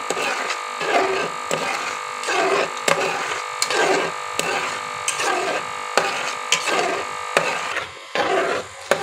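Spoon scraping and stirring egg halwa in a pan over low heat, a rhythmic series of rough scraping strokes about once a second, close and fairly loud.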